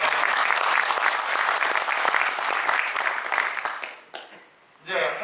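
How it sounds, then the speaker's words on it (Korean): Audience at a talk concert for Vietnam War veterans and bereaved families claps in a dense, sustained burst that tapers off after about four seconds, followed by a voice. "감사를 드리면서 소중한 박수를 드리겠습니다."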